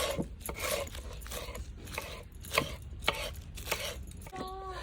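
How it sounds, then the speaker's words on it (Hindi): Iceberg lettuce leaves being finely chopped with a knife on a board, a quick irregular series of crisp cuts and taps heard up close with no talk. "ये पत्ते बारीक रख के आप कटिंग कर लें।"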